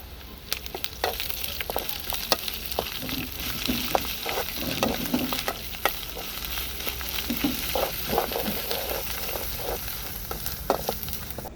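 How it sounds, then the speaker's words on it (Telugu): Curry leaves and onions sizzle steadily in hot oil as ginger paste goes into the pan, with intermittent scraping and stirring clicks over the constant frying hiss. "కరివేపాకు, ఎర్రగడ్డలు అయితే వేగిపోయి అల్లం పేస్ట్ అయితే వేసేసుకుందాం"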